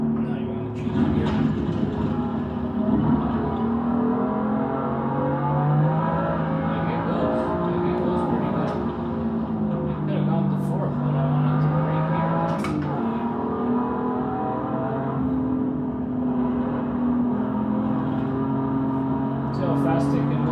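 A BMW M2 on a street circuit in Assetto Corsa EVO, its engine droning loudly and steadily, the pitch climbing and falling through gear changes, with someone talking over it throughout.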